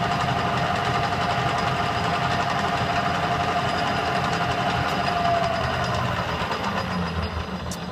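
A metal lathe runs steadily while a repaired change gear is checked for runout, giving a loud, continuous mechanical drone and whir with no talking.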